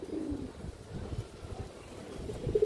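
A female pigeon of the Rabbani line coos softly, low repeated throaty calls close by against faint background noise.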